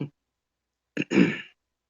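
After a brief silence, a short, close throat clearing: a quick rough catch, then a longer raspy, breathy rumble that stops abruptly.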